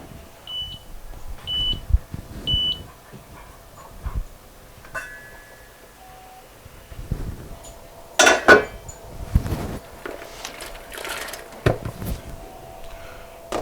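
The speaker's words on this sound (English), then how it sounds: "the timer just went off" A kitchen timer beeps in short repeated bursts while shell-on colossal shrimp go into a pot for Frogmore stew, followed by clattering pots, clinking metal and scattered kitchen bustle, with no speech.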